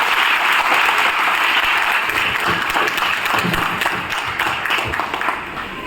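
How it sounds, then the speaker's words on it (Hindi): A seated crowd at a business income-plan seminar gives loud, continuous applause that holds steady for several seconds, then eases slightly toward the end. "तो सर एक बार जोरदार तालियां आप लोग करें"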